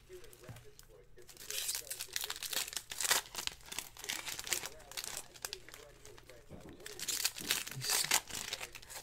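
Packaging from a box of Stanley Cup hockey trading cards crinkles and tears in rapid bursts as the flimsy wrapping is pulled open, fairly close, with a voice talking over part of it.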